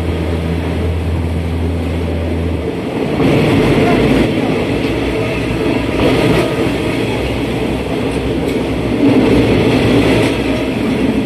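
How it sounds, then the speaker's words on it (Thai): A Maha Chai line suburban train in Bangkok rolls along after pulling out of Wongwian Yai station. A steady low rumble and rattle of wheels on track rises slightly as it picks up speed, heard from inside the carriage. "ขบวนรถก็ออกจากสถานีวงเวียนใหญ่แล้วนะฮะ"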